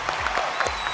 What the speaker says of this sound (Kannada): ಈಗ ನಮ್ ಗುರುಜಿಗೆ ಬರ್ಲಿ ಒಂದು ಜೋರಾದ ಚಪ್ಪಾಳೆ